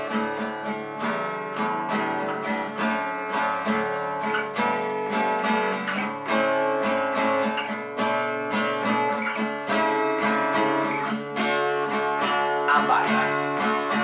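An acoustic guitar tuned to DADGAD strums a steady jig rhythm as it moves through the chords of the scale, one bar per chord, for about fourteen seconds. The strumming is close and continuous, with no talking.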